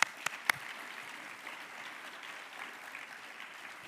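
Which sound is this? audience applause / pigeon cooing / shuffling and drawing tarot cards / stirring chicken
audience applause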